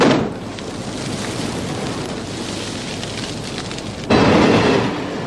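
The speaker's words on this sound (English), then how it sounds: "That's explosion, so be aware." A pyrotechnic explosion on the Mad Max Beyond Thunderdome film set gives a broad, rumbling roar that jumps suddenly louder near the end, then eases off.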